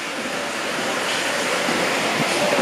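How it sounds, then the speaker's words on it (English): Heavy pouring rain falling steadily outdoors, a dense broadband hiss of rainfall with no break, fairly close and constant throughout. "And as you can tell, it's still fucking pouring rain."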